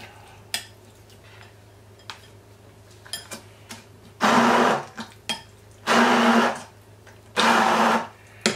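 Kitchen blender whirring through chimichurri ingredients in three loud bursts of roughly a second each, separated by soft clicks and clinks of utensils.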